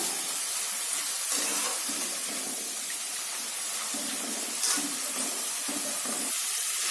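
Potato finger chips frying in hot oil, a steady broadband hiss and fizz that continues without a break and quietens a little as the bubbling dies down.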